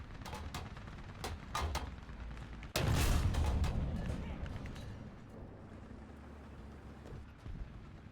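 A heavy tank cannon shot in a tank video game, with the IS-3 and T-44-100 in play. One loud, broadband boom lands partway through and rolls off slowly over a steady engine rumble, after earlier lighter impacts.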